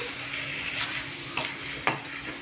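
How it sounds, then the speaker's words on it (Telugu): Chicken frying and being stirred in a pan, a continuous close sizzle broken by two sharp scraping strokes of the spoon. "ఇది పచ్చివాసన లేకుండా ఇలా కలుపుతూ దోరగా వేయించుకోవాలి"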